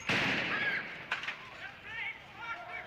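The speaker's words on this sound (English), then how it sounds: "Another gun battle in the streets of Belfast, proof that the IRA is not short of arms." Gunfire during a street gun battle in Belfast: a sharp report opens the clip and another crack follows about a second later, ringing out over a noisy street background.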